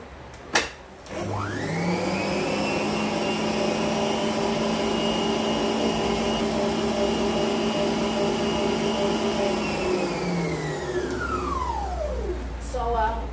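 An electric mixer whips off-white buttercream made from butter and shortening, giving a loud, steady motor whine that holds for about ten seconds before winding down near the end.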